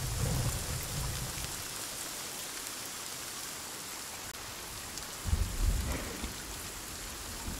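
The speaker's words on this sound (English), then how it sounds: "It's raining." Rain falls in the forest survival game Sons of the Forest, a steady hissing patter of rain on surfaces with low rumbling swells at the start and again near the end.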